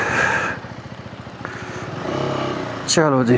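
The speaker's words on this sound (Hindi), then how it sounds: "अब बाइक को करते हैं बैक और आगे को निकलते हैं।" Motorcycle engine idling with a low, steady thump while it is backed up, then revving as it pulls away, with someone speaking briefly over it.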